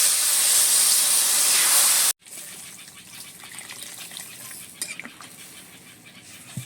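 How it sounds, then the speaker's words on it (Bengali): Water poured into a pan of frying spices during cooking of fish with gati kochu (taro), a loud gushing hiss for two seconds that cuts off abruptly, followed by quieter crackling sizzle. "এবারে পরিমাণ মতো জল দিয়ে দেবো"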